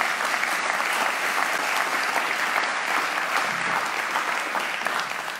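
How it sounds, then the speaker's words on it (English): Sustained applause from a church congregation at a Sunday service, dense and even clapping that carries on for several seconds before easing slightly. "Jake, let's give him a round of applause."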